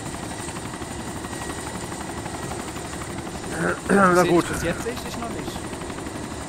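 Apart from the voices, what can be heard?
helicopter in video game DayZ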